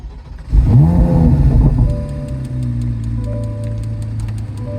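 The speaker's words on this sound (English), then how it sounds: "I'm gonna turn on the car and turn on the AC" A car engine cranks and catches, revs up loudly for about a second, then drops back to a steady idle, close by with no talking.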